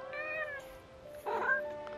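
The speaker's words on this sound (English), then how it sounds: "This is our third kitty. We got two winged kitties and a unicorn kitty." A cat familiar in the video game Forspoken gives a drawn-out, tonal meow, then a shorter, brighter second meow a moment later, close and clear over a quiet background.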